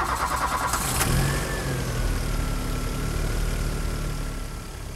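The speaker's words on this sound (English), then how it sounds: "Now, let's start the engine and check the ignition timing." A Volkswagen engine with CIS-E fuel injection cranks and catches, then settles into a steady idle, close and moderately loud with no talking.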